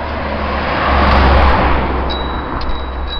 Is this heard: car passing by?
yes